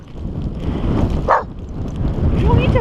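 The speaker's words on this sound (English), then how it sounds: "You don't need to bark." A single short dog bark sounds outdoors by a lake during a blizzard, heard amid steady, rumbling wind noise on the microphone, with faint voices near the end.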